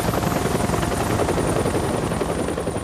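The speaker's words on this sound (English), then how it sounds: "the pilot keeps the rotor blades whirling so the helicopter doesn't fall backwards" A helicopter idles on a confined landing spot with its rotor blades kept whirling, giving a loud, close, steady rhythmic thudding roar throughout with no voices.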